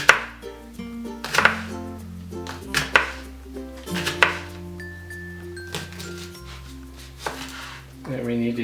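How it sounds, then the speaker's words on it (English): A knife chops vegetables on a cutting board for chicken and mushroom miso soup, a series of sharp, irregular knocks over a steady background melody. "Could just chop a little finer."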